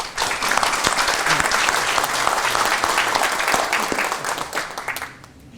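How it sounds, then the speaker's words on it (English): An audience at an international conference on peaceful unification and economic development breaks into loud, sustained applause, a dense roar of clapping that holds steady before tapering off at the very end. "Let us give all of them a warm round of applause."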